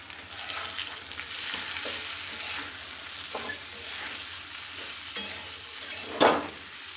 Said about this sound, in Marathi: आणि आता आपण हा तळून घेतलेला फ्लावर टाकायचा यामध्ये